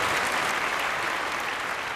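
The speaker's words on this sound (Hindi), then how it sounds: "खैर भाई, वंडरफुल, जोरदार तालियां एवरीबॉडी।" Loud, dense studio audience applause on a family game show, a steady broadband wash of clapping with no talk over it.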